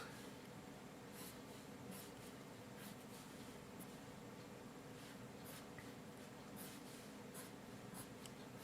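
A pencil sketches hair strokes on paper in soft, quick, repeated scratchy flicks, quiet and close over a steady background hiss.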